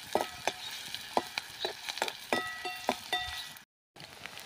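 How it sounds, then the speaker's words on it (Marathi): Chopped onion sautéing in a hot pan for a home-style vada bhaji curry, a steady sizzle broken by repeated scraping and clinking spatula strokes, close up with no talking. "आता यामध्ये आपण कांदा टाकणार आहोत. कांदा देखील परतून घ्यायचा आहे."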